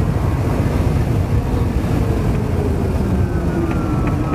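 A 2010 Tesla Roadster Sport's electric motor while driving: a loud, steady whir with broadband road and wind rush throughout and faint high whine tones, no talking.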